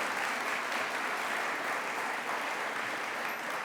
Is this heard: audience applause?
yes